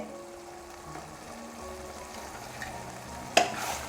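Ripe mango pickle with its ground gravy being stirred in a hot pan: a soft, steady sizzle with faint scraping throughout, then a sharper clatter near the end.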